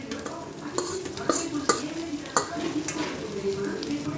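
Fish bhurji frying with browned onions in a pan, a quiet sizzle broken by sharp clinks and scrapes of a spoon stirring against the metal, close by.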